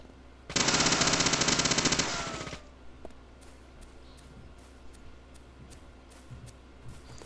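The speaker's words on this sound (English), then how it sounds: "I love having infinite ammo machine guns." An infinite-ammo machine gun in Deadly Premonition: Director's Cut fires one loud, rapid burst of about two seconds, then scattered quiet footsteps and light taps follow.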